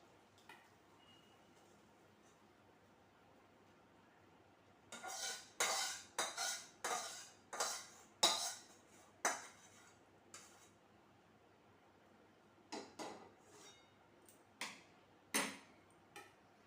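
Utensils clink against a dish while bel (wood apple) murabba is poured out, a quiet stretch followed by a run of sharp, closely spaced metallic taps, then a few scattered clinks near the end, with no talk.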